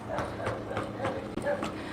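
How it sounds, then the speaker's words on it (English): Horses pull carts along a street in Alcudia, Mallorca, their hooves clip-clopping in a steady, quick rhythm at a moderate distance, with faint background chatter. "You can still see they're running the horses and the carts"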